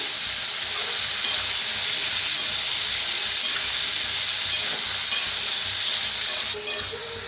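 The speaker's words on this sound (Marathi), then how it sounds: "छान असं तेलात भाजलंय बघा" Pumpkin pieces frying in hot oil while being stirred, a steady bright sizzle with occasional scraping of the utensil, close by with no talking.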